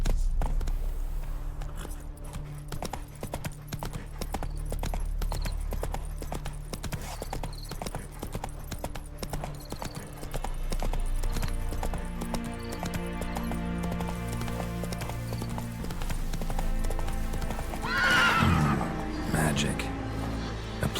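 A horse gallops in The Witcher 3: Wild Hunt, its hooves pounding in a fast, steady clip-clop rhythm for the whole stretch, over game ambience, with a short whinny near the end.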